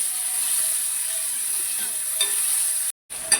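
Ginger and garlic cloves sizzle in a hot pan with a bright, steady hiss, and faint stirring scrapes come and go. The sound cuts out briefly near the end, then resumes.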